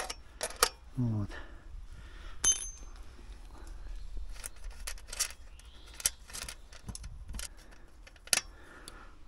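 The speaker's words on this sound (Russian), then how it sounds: "Здесь достаточно взять ключик на 10. Открутить всего одну лишь гаечку вот эту." Metal clicks and scrapes of a 10 mm wrench loosening a single nut on the luggage rack of an Orion 50 moped, close and fairly quiet, with a brief spoken word partway through.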